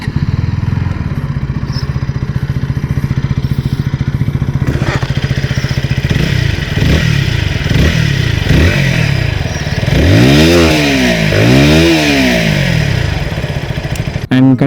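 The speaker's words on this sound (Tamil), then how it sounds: "பைக்கோட எக்ஸாஸ்ட் நோட் எப்படி இருக்குன்னு இப்போ கேளுங்க" A 2025 KTM Duke 160 motorcycle idles with a steady thrum, then gets blipped repeatedly, each rev rising and falling sharply, with two big swooping revs near the end, loud and close.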